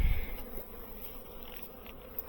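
Honeybees at a hive coming out of winter hum in a steady, close buzz, with no talk over it.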